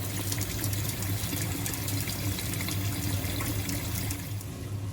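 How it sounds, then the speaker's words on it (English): Brown lentils are washed in a bowl of water, giving a continuous close splashing and sloshing wash of water with no talking. "First of all, we're going to wash the dal."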